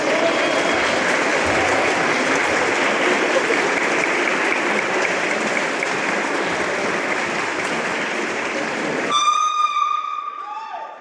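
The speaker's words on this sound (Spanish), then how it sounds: "les pido un fuerte, caluroso aplauso" Sustained, dense applause from an audience welcoming the faculty's highest authority at a notarial forum, loud and steady for about nine seconds before cutting off, followed by a brief tonal horn-like sound.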